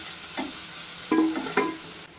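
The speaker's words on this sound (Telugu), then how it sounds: "అల్లం వేసుకొని కూడా కొంచెం మంచిగా ఫ్రై చేసుకోవాలి నెక్స్ట్ ఇంగ్రీడియంట్స్ వేసే ముందు" Ginger fries in a pan for chicken pulao while being stirred, giving a low background sizzle broken by three or four clinking scrapes of a spoon against the metal.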